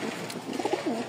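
Pigeons cooing softly at close range, a few low rolling coos over faint background noise, heard from a breeder's pair with feathered feet.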